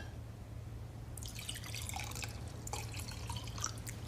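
Room-temperature water pours into a drinking glass, a steady trickling splash with small drip-like bursts over a low background hum, moderately faint and close.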